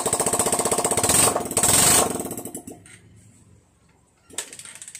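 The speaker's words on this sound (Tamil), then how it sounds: "சைலன்சர் மாட்டாமலே நான் வண்டியை ஸ்டார்ட் பண்ணி" A Bajaj Pulsar 150 motorcycle engine with no silencer fitted, so it roars loud and raw with a rapid rattling exhaust beat. It revs for about two seconds, then drops away to near silence, and a short burst returns at the end.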